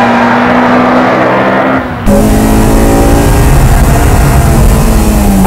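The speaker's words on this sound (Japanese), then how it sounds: "Let's see how Hattori drives through the technical section of the course" A Mitsubishi Lancer Evolution IX is driven hard through a technical section of a track, its engine note holding steady, cutting briefly, then rising sharply and loudly as it accelerates again, with no talk.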